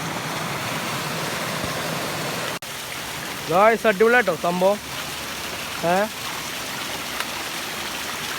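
Water rushes steadily at the top of a waterfall, a continuous broadband roar that runs unbroken from start to end, with a person talking briefly over it partway through.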